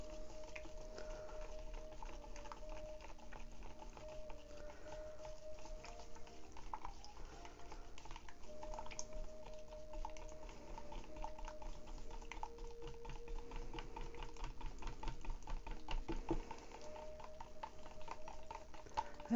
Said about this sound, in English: Take my stir stick and give it a good mix up.